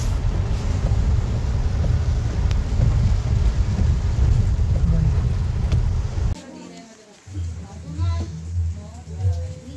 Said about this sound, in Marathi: पाऊस मस्त सुरू झाला एकदम.